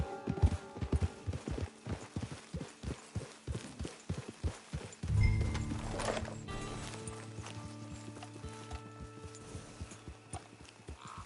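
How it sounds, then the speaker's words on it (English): Video-game horse hooves clip-clop at a walking rhythm, then a louder thump and a snort as the horse stops near a camp, leaving a steady ambient hum. "It's your horse."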